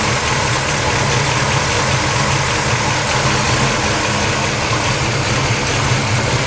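A 1977 Pontiac Trans Am engine idles steadily while warming up, a loud continuous low rumble with slight knocking vibration throughout, close by and with no talk over it.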